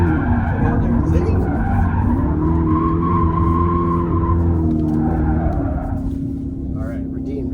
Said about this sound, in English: So we just finished doing some drifting.